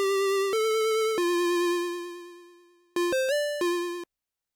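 A chiptune chain on the Dirtywave M8 tracker plays bright square-wave tones with rich harmonics, a few long held notes and then a quick run of short stepped notes, loud and clean with no voices.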